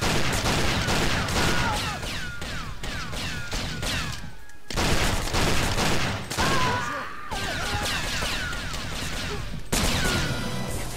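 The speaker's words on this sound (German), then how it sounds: "Wer schießt denn da rum?" Gunfire in the video game James Bond 007 Nightfire, with dense, loud volleys of shots firing nearly nonstop. They break off briefly a couple of times before resuming.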